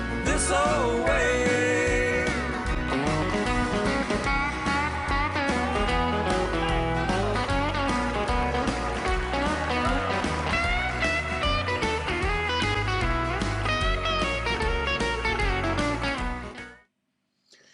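Country guitar solo from a song: fast, dense picked lead lines over a full band, played continuously at steady volume before stopping abruptly near the end.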